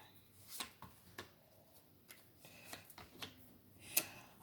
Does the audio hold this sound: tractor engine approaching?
no